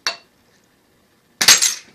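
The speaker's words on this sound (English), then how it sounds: "the bottom should pop, or at least it should break" A glass bottle's bottom is struck and breaks: a faint short clink at the start, then silence, then a loud sharp crack and brief shattering ring.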